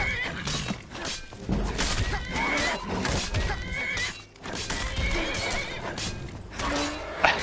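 Horses in the Skyrim video game neigh and whinny loudly several times over clip-clopping hooves and thuds, a busy close-up scuffle with no speech.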